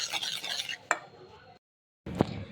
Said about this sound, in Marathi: आणि श्रीखंड चांगले फेटून घ्यायचे आहे। कोको पावडर एकदम व्यवस्थित मिक्स करून घ्यायची आहे आपल्याला।